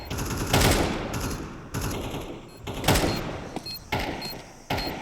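Bursts of MP9 submachine gun fire in Counter-Strike 2, several sharp rapid volleys separated by brief pauses, loud and close.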